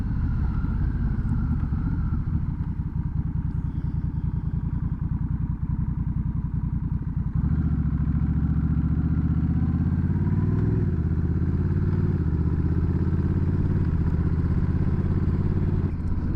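A Honda Rebel 1100 motorcycle engine hums in a steady low drone while riding. The rumble deepens and grows fuller about halfway through, with no voices.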